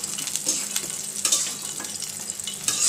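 Chicken pieces frying in oil in a frying pan, being cooked for meat pitha: a continuous close, bright sizzle and crackle with occasional sharper pops and stirring scrapes, steady throughout with no talk.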